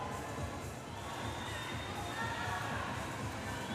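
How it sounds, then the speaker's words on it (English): Spectators cheering at a national long-course swimming championship race, a dense, steady roar of crowd noise and shouting from the stands, heard under a commentator's voice. "The crowd certainly getting behind the swimmers."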